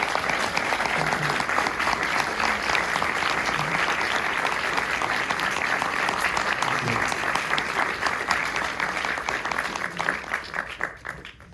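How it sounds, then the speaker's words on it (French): An audience at a film screening and director meeting at an MK2 cinema applauds with dense, steady clapping that stays loud and close, then thins and fades toward the end. "peut applaudir."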